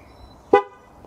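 A single short electronic beep from a TPMS tool held next to a car tyre, clear and fairly close, with a sharp onset that quickly fades out in the otherwise quiet surroundings.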